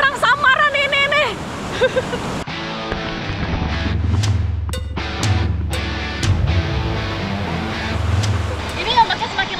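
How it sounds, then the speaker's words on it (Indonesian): Ocean waves crash and churn on a beach where the surf keeps growing, a broad rushing wash heard close and loud, with people talking and shouting over it. "Ini ombaknya semakin lama tuh semakin besar dan ada dua arus yang harus diperhatikan"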